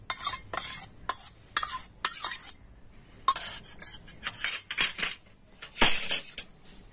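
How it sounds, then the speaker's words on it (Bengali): Semolina and sour yogurt stirred together in a bowl, a spoon scraping and clinking against the sides in quick irregular bursts, close and fairly loud with no talking. "আর এখন আমি সমস্ত উপকরণ খুব ভালো করে মিশিয়ে নিচ্ছি।"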